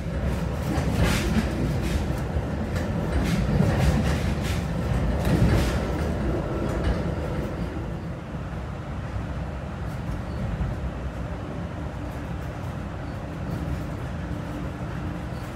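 Metra BNSF express commuter train running at track speed through a suburban town, a steady rumbling roar with rhythmic rail clatter, louder early on and then settling into a smoother, quieter hum.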